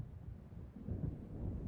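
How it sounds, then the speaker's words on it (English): Thunder from an approaching storm in the video game Alan Wake rolls as a low, deep rumble that swells gradually over steady background noise, with no voices. "It seems there's a storm coming."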